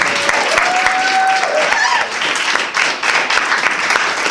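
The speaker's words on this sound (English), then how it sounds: "let's give another round of applause for Marcus" A crowd at a live show gives a hearty round of applause for a performer, dense clapping running throughout with a few faint voices and a whistle-like cheer mixed in.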